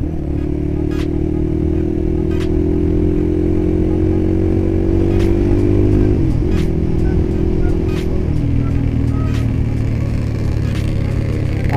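Motorcycles and a car travel along the road in a steady, loud engine drone that shifts down in pitch twice as the riders ease off, with faint clatter throughout.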